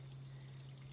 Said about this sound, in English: we are going to add in some more water